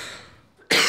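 A person coughs once sharply and loudly near the end, after a fading breathy hiss.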